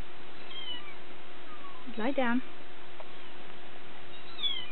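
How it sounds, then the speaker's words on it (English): A kitten gives a single short meow, faint and somewhat distant, in a quiet room with a steady background hum, while a person gives a brief spoken command nearby. "That's the kitty."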